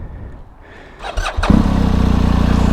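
A BMW R 1250 GS motorcycle, in yellow and black 40 Years edition trim, cranks briefly and catches, then settles into a loud, steady, close idle with no one talking.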